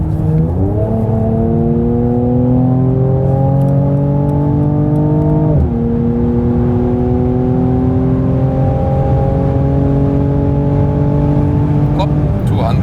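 A 2019 Mercedes-AMG C43 C-Class facelift is floored at full throttle, its engine note climbing loud and strong, dropping at one gearshift midway, then rising again through the next gear.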